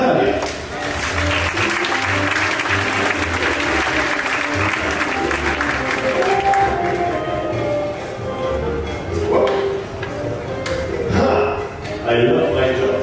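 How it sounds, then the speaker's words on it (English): Audience applause at a magic show where a woman is sawn in half, steady and loud for about eight seconds with music underneath, then thinning out as voices and stage sounds take over. "big round of applause for Natalia"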